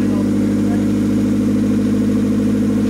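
A just-repaired car engine idles steadily while warming up, a continuous low mechanical hum close by, with talk over it.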